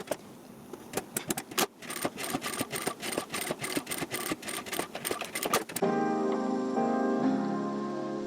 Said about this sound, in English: sew along both long edges, staying close to the edge